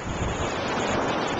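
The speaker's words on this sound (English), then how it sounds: "we're here in Orange Beach, Alabama, on the beach" Ocean surf rolls onto the beach at Orange Beach, Alabama, as a continuous dense wash of waves mixed with wind rushing against the microphone.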